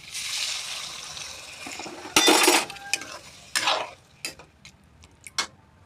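Stirring rohu fish head curry with potatoes and flattened rice in a pan, soft sizzling at first, then a series of sharp utensil scrapes and clinks against the pot, irregular and close, without talk.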